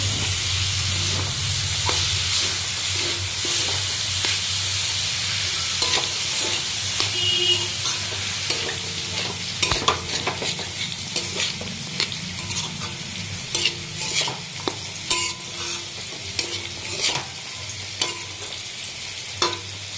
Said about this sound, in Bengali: এখন সামান্য একটু জল দিয়ে এই মশলাটা অনেকক্ষণ ধরে ভালো করে কষিয়ে নেব